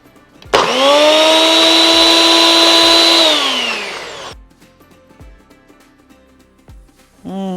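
A mixer grinder jar grinds a paste in a loud, steady whirring burst lasting a few seconds, then winds down, followed by light clatter.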